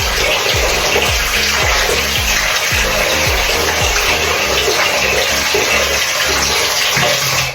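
Running water pours continuously while rinsing thick, curly, porous hair, a loud close splashing stream with uneven gurgles and no talk.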